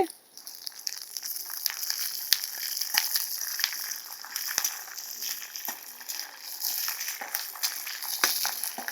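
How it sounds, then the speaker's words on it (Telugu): Peanuts and green chillies crackle and sizzle continuously in a pan of hot oil, a busy, fairly quiet frying sound with scattered sharp pops. "ఒక 10 పచ్చిమిరపకాయలు వేసుకొని ఇవి కూడా వేపుకోవాలండి"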